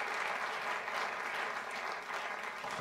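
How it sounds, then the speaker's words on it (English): Dense, steady clapping from an audience salutes the panelists of a Bloomberg TV debate on the Eurozone held in Turkey, loud and even throughout a short burst with no voices over it. "A big round of applause to you all."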